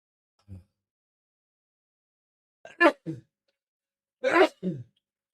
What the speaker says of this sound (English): I sneeze again.